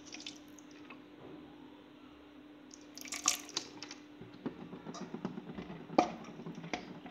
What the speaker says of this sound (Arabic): باش ندير له شويه ماء ونرشو